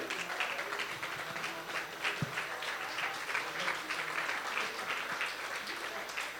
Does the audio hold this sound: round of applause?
yes